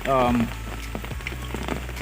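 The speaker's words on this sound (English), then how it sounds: "even it is raining very heavy" Heavy rain pours steadily onto water tanks during a non-stop downpour, a dense close patter running through the whole stretch, with a brief voice at the very start.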